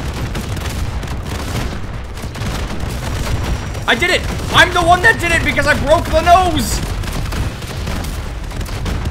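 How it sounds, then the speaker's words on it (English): Explosions and bursts of gunfire from the Call of Duty Vanguard live event roll on loudly and continuously, with excited players shouting and talking over the battle. "Good Lord, there's so many explosions."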